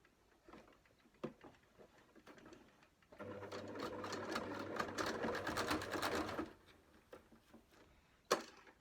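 A sewing machine stitches curtain fabric inside a self-build Fiat Ducato camper van, running in one steady whirring burst of about three seconds, with scattered handling clicks before and after.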